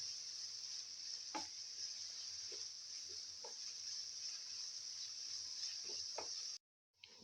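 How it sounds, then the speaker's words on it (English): Chopped onions sauté in a pan with a steady, even sizzle and a few soft stirring clicks, cutting off abruptly shortly before the end. "Keep on sauteing till the onions lose their pinkish color, become a golden yellow."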